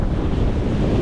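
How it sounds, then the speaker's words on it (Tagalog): Strong wind buffets the microphone on a resort terrace near the water, a loud, constant low roar with rushing noise throughout. "Lumakas yung hangin."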